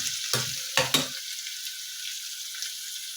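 Green chillies fry in a pan for gongura pulusu, giving a steady, close hiss of oil sizzling, broken early by a few sharp clatters of a spoon stirring against the pan before the sizzle settles into an even, continuous fry.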